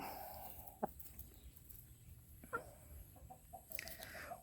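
Chickens cluck and squawk intermittently at a moderate distance, with a few sharp calls standing out against a quiet background.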